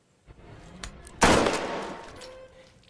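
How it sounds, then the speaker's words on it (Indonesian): A gunshot in a film scene where a woman shoots herself in the head, a single sharp loud blast that rings out and decays over a couple of seconds above a low, quiet background. "wanita itu pun menembak kepalanya sendiri karena kecewa tidak dipilih oleh keluarga Paimon"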